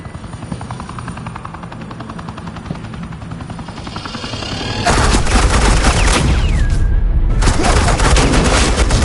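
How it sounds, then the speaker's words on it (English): Sustained suppressing gunfire erupts in Batman: The Enemy Within, a dense, loud rattling barrage over a helicopter-like rumble, starting midway and continuing steadily to the end. "Suppressing fire."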